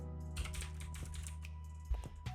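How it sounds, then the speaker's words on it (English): Someone types on a computer keyboard while building a web application, an uneven run of quick, light key clicks with a couple of sharper taps near the end, close and alone over a steady hum. "sorry, my typing is very weird."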